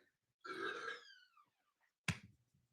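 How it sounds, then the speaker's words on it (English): A single loud, drawn-out human burp lasting about half a second, followed by a brief sharp knock or click, with quiet room tone in between. "Did you guys hear him walk in and burp as loud as humanly possible?"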